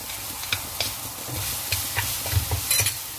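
Noodles stir-fried with radish, carrot and chili sauce, tossed in a pan: scraping stirs and soft sizzling in an irregular rhythm, close and moderately loud, with no talking.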